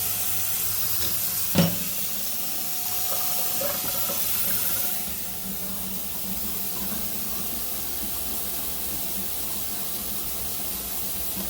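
Water rushes steadily down a newly repiped kitchen sink drain under test, a continuous close splashing flow with one sharp knock early on and the stream softening slightly partway through.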